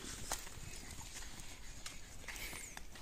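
Horse hooves clip-clop in an irregular series of sharp, moderately loud knocks during a horse-breaking training session, over steady outdoor background noise.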